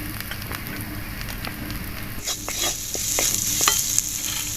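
Small shrimp and chopped green chili fry in a hot pan, a steady close sizzle with scraping stirs that grows louder and busier toward the end, no talking.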